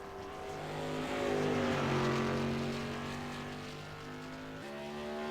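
A modified race car on a qualifying lap at USA International Speedway, New Years Tour Mod race: a steady, loud engine roar whose pitch slides and swells, eases off, then climbs again near the end, heard alone without talk.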